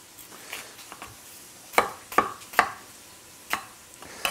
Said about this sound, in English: I'm just going to kind of rough chop them